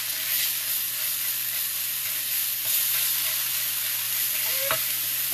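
Garlic and seasoning stirred in a sizzling pan, a steady hiss of frying with faint scraping and a brief clink near the end.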